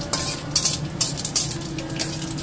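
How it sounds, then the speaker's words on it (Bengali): Whole garam masala spices fry in heated butter in a wok, a soft steady sizzle broken by several sharp scraping clinks of a spoon stirring against the pan, close and with no talking. "কড়াইতে একটু বাটার দিয়ে নিচ্ছে, বাটারটাকে একটু গরম করে নিয়ে ওর মধ্যে সব গরম মশলা যেটা তৈরি করা ছিল"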